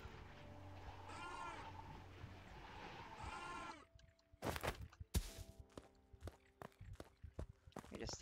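Two sheep bleats ring out one after another in the game Craftopia, then scattered footsteps and clicks follow. Everything sounds synthetic, like game audio.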